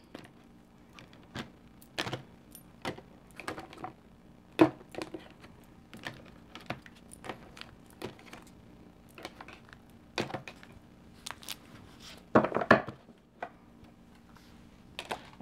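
Tarot cards being cut and shuffled, a series of soft, sharp taps and flicks at an irregular pace, close and fairly quiet with no talking.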